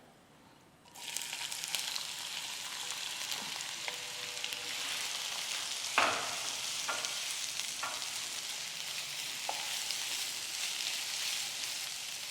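Onions frying in a pan for hariyali chicken: a sizzle starts suddenly and keeps up a steady hiss, with a few clanks of a spoon stirring against the pan.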